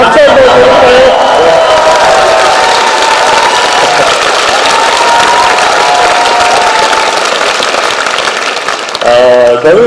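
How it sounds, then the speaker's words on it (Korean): A concert audience at a political party rally claps and cheers in a loud, dense, continuous wash that lasts throughout, with a voice rising over the noise near the end. "퍼플 콘서트 오신 분들 손 한번 들어주시고 박수 한번 해볼까요?"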